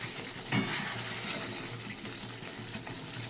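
Onion, tomato, chilli, cumin and turmeric masala frying in a pan, a steady soft sizzle throughout with a brief clatter of stirring early on, fairly quiet and without talk.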